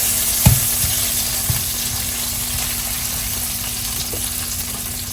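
A burger frying in a pan gives a steady, close sizzle with soft crackles and a couple of light pops near the start, running alone without talk.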